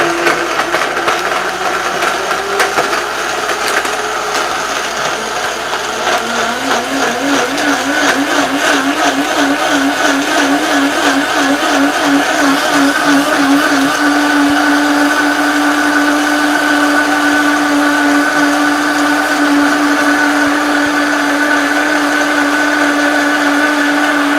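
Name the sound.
blender mixing dates until smooth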